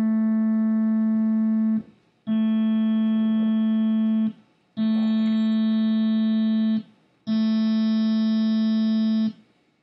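An electronic test tone plays in four sustained blocks of about two seconds each, separated by brief gaps, with more upper harmonics stacked onto the same low fundamental in each later block, steady and buzzy.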